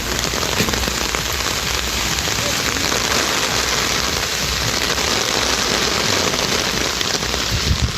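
Heavy rain mixed with hail pours down steadily for over half an hour in Ambur, Tamil Nadu, a dense, constant loud hiss of drops and pellets striking surfaces with scattered sharp cracks throughout.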